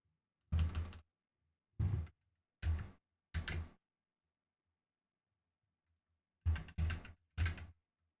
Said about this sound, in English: Which I'm typing out now.